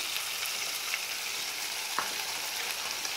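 Chicken pieces go into a pan of frying mushrooms, giving a steady close sizzle with light stirring scrapes and one sharp clink partway through.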